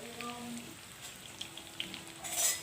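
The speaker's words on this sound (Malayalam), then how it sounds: "ഞാൻ ആ എണ്ണയിൽ തന്നെ ബാക്കിയുള്ള ചിക്കനും കൂടി ചേർത്ത് വറുക്കാൻ പോവാം." Chicken 65 pieces frying in hot oil over a medium flame give a soft, steady sizzle with scattered crackles that briefly grow louder near the end.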